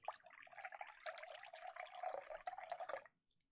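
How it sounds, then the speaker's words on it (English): Water pours steadily for about three seconds in a quiet indoor setting, a continuous splashing stream at close range that stops abruptly, leaving near silence. "I'm going to pour the water."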